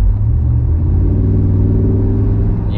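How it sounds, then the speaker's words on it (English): A Dodge or Jeep fitted with a throttle booster pulls away under light throttle, its engine droning in a loud, steady low rumble heard from inside the cabin, with no voices over it. "So we're accelerating quite significantly with just even pressing a little bit of it."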